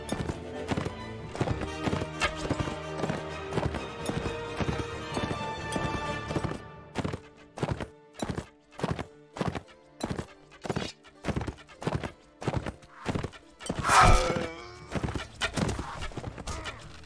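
Video game horse hooves clip-clopping in a steady, evenly spaced trot, with a loud whinny partway through, under layered game sounds that thin out as the hoofbeats stand alone.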